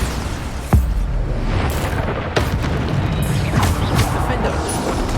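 Bombarda blasting spells explode in Hogwarts Legacy as several deep booming blasts over continuous game music and combat noise, loud and close.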